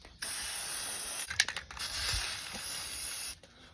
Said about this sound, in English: Do you use the spray?